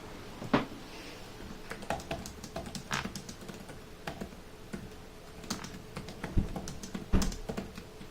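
Close, quiet typing on an Acer Swift 3 SF314-52 laptop keyboard, irregular soft clicks and taps with occasional louder keystrokes, no talking.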